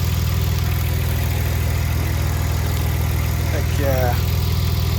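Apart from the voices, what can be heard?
2002 Audi B5 S4 engine running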